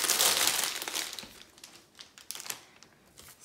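Plastic bag crinkling while a LEGO Super Mario NES set is unboxed, loud dense rustling at first, then thinning into scattered sharp crackles and crinkles close to the mic, with no talking.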